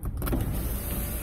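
A 2016 Ford Focus SE hatchback's power window motor whirs steadily as the glass moves, a close, continuous electric hum with no voices.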